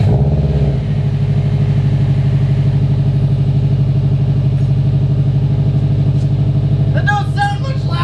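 Subaru WRX hatch with an R400 catback and Grimmspeed downpipe starts up and settles into a loud, steady, rumbling idle, with a brief voice near the end.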